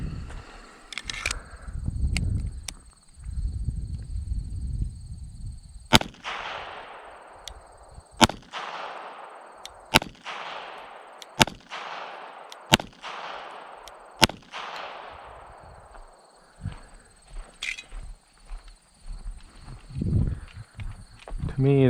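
A series of sharp, loud pistol shots from an EAA Girsan 1911 at an outdoor range, spaced a second or two apart with ringing decays. A voice talks at the start and end.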